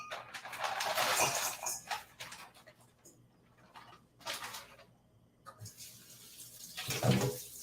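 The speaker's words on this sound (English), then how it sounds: "You literally just pop it into this colander, let it warm water run over the sink for just a little bit." Warm tap water runs over cooked pasta in a colander in a kitchen sink, a rushing, splashing flow that comes in uneven bursts with a brief lull partway through.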